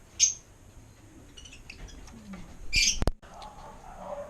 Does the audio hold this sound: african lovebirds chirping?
yes